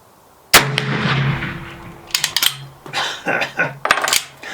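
A vintage Bullard rifle loaded with old black powder rounds fires one sharp, loud outdoor shot with a lingering rumble, followed by metallic clicks and clatter of the action being worked.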